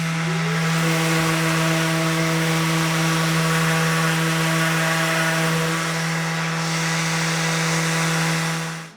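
A power sander mounted on a SandStand runs with a loud, steady electric motor whine and buzzing hum throughout, alone with no talk, and winds down at the very end.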